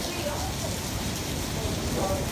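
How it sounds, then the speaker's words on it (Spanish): Steady heavy rain hisses across the whole clip in Las Terrenas, a dense broadband wash with no pauses, fairly close and loud. "No se ve el agua, pero está súper lloviendo."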